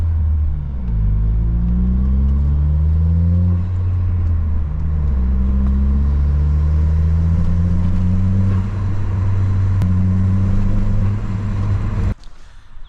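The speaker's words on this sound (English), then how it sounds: "I don't know if you could tell on the camera how bad it's sputtering" A Saab 9-3 with a recurring engine fault, running rough and sputtering close by: a loud low rumble with uneven, wavering pitch sweeps as it stumbles. The engine cuts off abruptly near the end.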